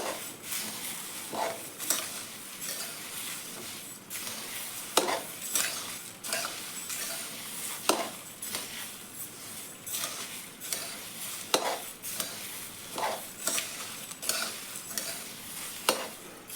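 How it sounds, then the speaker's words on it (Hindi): Onions frying in a pan for a Maharashtrian onion garlic masala, stirred with repeated sharp scrapes over a steady close sizzle, with no talking. "इधर हमारा प्याज भी अच्छे से फ्राई हो रहा है। बीच बीच में चलाते रहेंगे ताकि कलर सब एक जैसा हो।"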